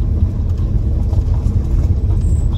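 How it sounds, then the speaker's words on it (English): A car rolls slowly around a campsite on a site tour, its engine and tyres giving a steady low rumble from inside the cabin, with no talk over it. "you get to have a little ride round in the car and see it all"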